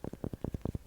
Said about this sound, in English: This is the sound of tapping the sides of the candle jar.